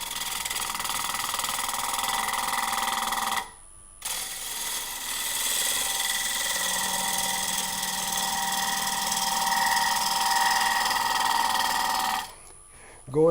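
A gouge cuts out the inside of a wooden bowl on a lathe. A steady, close, rattling cutting noise runs for long stretches, with two short pauses where the tool lifts away.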